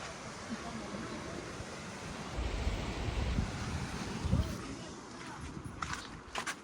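Sea waves wash against the rocks below Sindhudurg fort in a steady rushing roar with gusts of wind on the microphone and a few louder surges, while people talk nearby.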